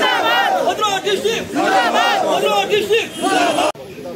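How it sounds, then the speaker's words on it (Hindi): Loud crowd at an election rally in Seri Bazaar, Bhaderwah, with many voices chanting and shouting slogans in rhythmic waves, close and continuous before cutting off abruptly near the end. "देखिए कितना भीड़ भड़ाका है और बहुत जोरों शोरों से लोगों के अंदर उत्साह है"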